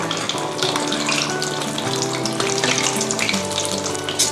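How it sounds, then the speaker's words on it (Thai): Pieces of battered chicken deep fry in hot oil for Thai fried chicken rice, a dense continuous crackling sizzle heard close up with no talk. "นี่เราก็ทอดมาสักระยะหนึ่งนะคะเราก็จะกลับด้านนะคะ"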